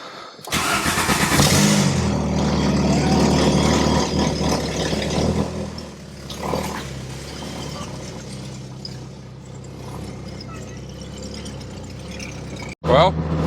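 A 1994 Volkswagen Golf Mk3 with its check engine light on starts and pulls away, the engine rising loud at first, then settling into a steady mid-pitched drone under cabin noise, ending in a sharp knock.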